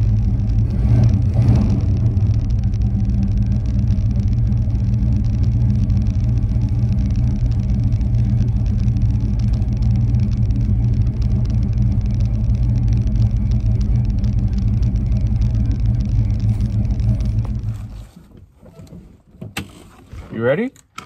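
A Chevelle's engine rumbles steadily and loudly for most of the stretch, a deep continuous drone close by, before cutting away near the end to quieter shuffling sounds.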